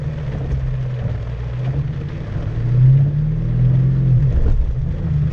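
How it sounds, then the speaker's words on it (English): Engine of a manual-transmission car revving during a learner's drive in pouring rain, a steady low rumble that swells louder in the middle and then settles, heard alone with no talking. "revved up a little bit high for that one"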